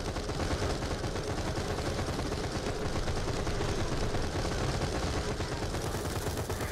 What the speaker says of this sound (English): Turned my sniper into a machine gun